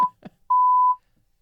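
A single steady electronic censor bleep covers a swear word, a clean, loud tone lasting about half a second, just after a brief bit of clipped speech.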